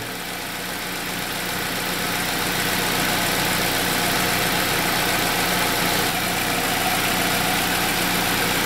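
Saab 9-3T engine idling with an intermittent rough-running fault, a steady close mechanical hum and vibration that builds slightly at the start and then holds even, with no talking.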